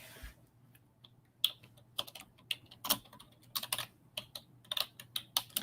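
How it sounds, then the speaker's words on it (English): Fingers tap out words on a computer keyboard in irregular bursts of quick clicks, close and fairly quiet, with short pauses between runs of keystrokes and a faint low hum beneath. "Let me type that up right now quickly."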